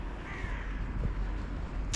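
Crows calling among other birds outdoors, a few faint, distant caws over a steady background hum, with one sharper call near the end.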